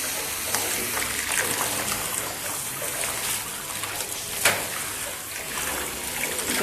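Water rinses shampoo out of the coat of an Alabai dog kept outdoors in a yard, a close, continuous splashing gush with trickles and one sharper splash.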